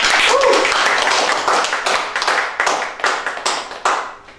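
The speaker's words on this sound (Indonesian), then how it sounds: "Rada minta tepuk tangannya dong" Audience applause on an Indonesian talk show, starting as a dense, loud wash of clapping and thinning over a few seconds into scattered, separate claps.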